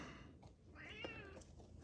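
A cat meows once, a clear drawn-out call near the microphone in a garage beside a 1970 Yamaha XS650 chopper, set against low background hum.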